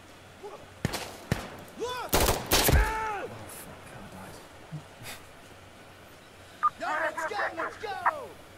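Gunfire and explosions from a shooter video game ring out in bursts, a few sharp single shots followed by a heavy blast and scattered later reports, with people talking over the action.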